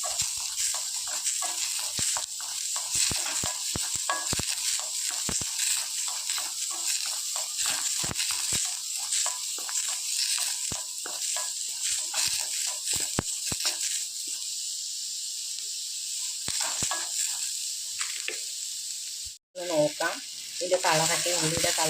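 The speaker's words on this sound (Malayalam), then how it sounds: "അത് ചേർത്ത് കൊടുക്കാം അതൊന്ന് നന്നായിട്ടൊന്ന് റോസ്റ്റായി വരുന്നവരെ നമുക്ക് ഇളക്കി കൊടുക്കാം" Shallots sizzle loudly in hot oil in a pan for a Kerala-style fish roast, with a constant hiss and repeated scraping clicks of a spoon stirring, close and busy until a brief break near the end.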